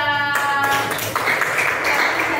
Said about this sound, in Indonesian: Aku beri tepuk tangan untuk kelompok 2